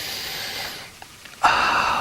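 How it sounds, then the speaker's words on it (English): Someone sniffing hyacinth flowers up close: a long breathy inhale that fades, a pause with small clicks, then a sharp loud sniff. "take a sniff."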